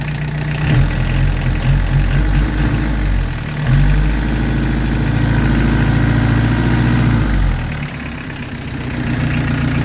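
A car engine, newly running again after four months off and still being broken in, idles steadily nearby with a deep, even rumble, rising slightly in level at times.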